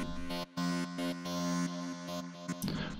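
An Alligator synthesizer running in Bitwig holds a sustained harmonic tone alone, cut by brief silent gaps and rhythmic volume dips, ending in a noisier burst.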